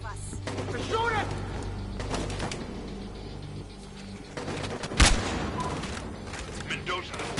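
Gunfire in the Battlefield Hardline video game, with several sharp bursts and one loud crack standing out over a steady mechanical clatter, all under raised voices.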